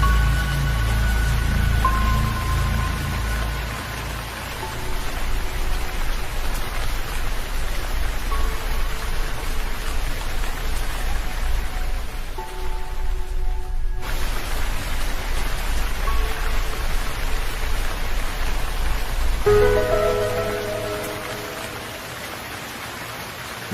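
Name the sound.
rain falling, story sound effect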